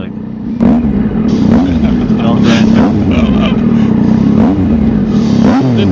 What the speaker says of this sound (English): Who's revving their engine?